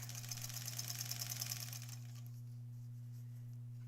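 A sewing machine quilts through a granny squares quilt in a rapid, even stitching rattle for about two seconds, then stops, leaving only a low steady electrical hum.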